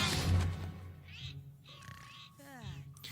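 Cartoon kitten from a My Little Pony episode mewing in a few short, high meows, mixed in with background music and voices from the show.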